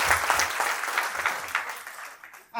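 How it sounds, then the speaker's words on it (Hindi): Audience applause at a Hindi-language award speech event, a dense burst of clapping that fades toward the end, close and fairly loud, with no one speaking over it. "तो एक जोरदार तालियां होनी चाहिए हमारी संस्था के लिए"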